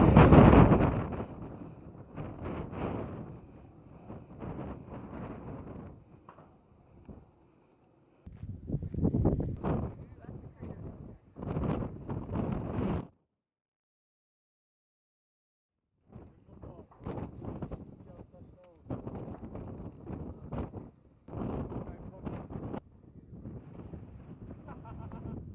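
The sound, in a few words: strong wind at Koko Head summit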